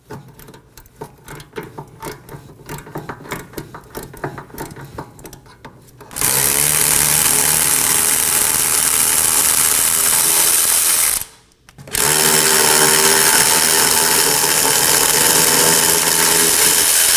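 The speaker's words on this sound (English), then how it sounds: "We're going to move the bracket bolts, which are two 19mm." A power ratchet whirs loudly and steadily while removing the two 19mm brake caliper bracket bolts on a Nissan Maxima, two long runs separated by a short pause, preceded by lighter clicking and tool handling.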